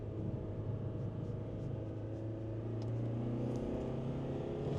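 Ford Transit Custom vans, old and new, accelerate in a drag race, heard as a faint, distant low engine rumble that builds steadily, with shifting tones as gears change.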